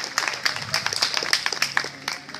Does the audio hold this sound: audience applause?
yes